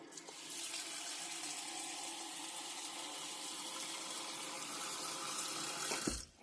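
Water runs from a tap into a sink, a steady, fairly quiet rushing stream for about six seconds before cutting off, with no voices.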